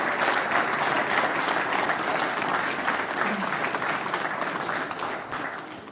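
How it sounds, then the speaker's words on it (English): A crowd gives dense, steady applause for nominees and winners at a Fighter Wing awards ceremony, holding full for most of the stretch before easing slightly at the end. "Congratulations and a final round of applause to all the nominees and winners."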